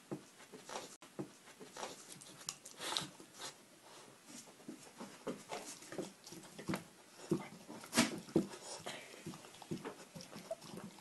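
A dog whimpers and whines in short, uneven bursts while trying to get at food, mixed with scrabbling, sniffing and light knocks, moderately close and fairly faint throughout.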